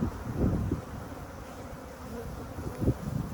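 Calm honey bees droning at an open beehive in a yard, a low steady buzz with a few louder swells as bees pass close, under light wind noise.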